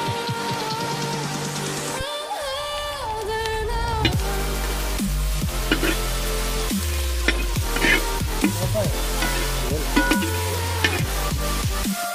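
Sliced ripe banana and grated coconut roast in a pan until browned, giving a steady sizzle with repeated stirring and scraping throughout.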